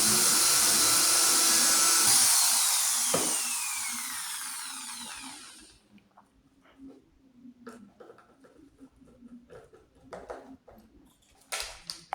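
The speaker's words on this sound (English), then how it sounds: "Then we also drill to put the screw" A drill bores a screw hole in a homemade ballistic pendulum, a loud steady whine for about five seconds that winds down, followed by quiet clicks and knocks of handling.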